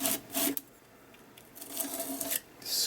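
Paint is scraped across an art journal page in short, close rasping strokes, a few quick scrapes separated by brief quiet pauses.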